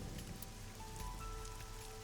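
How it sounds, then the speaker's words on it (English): Pouring rain in the video game AI: The Somnium Files, a steady hissing downpour, soft and continuous with a faint tone underneath. "Right now, she's standing in the pouring rain with her umbrella up."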